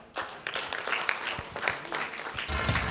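Audience applause at an award ceremony for chapter awards during an international business conclave, a dense round of clapping that swells louder toward the end, with faint voices mixed in.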